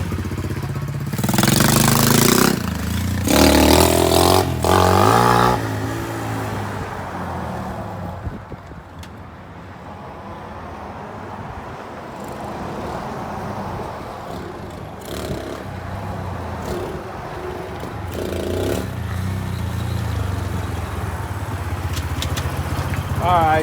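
Honda CL70 K1 motorcycle with a carburetor needing cleaning, its small engine revving loudly then dropping to a lower idle-like drone, bogging as throttle is applied, with someone speaking.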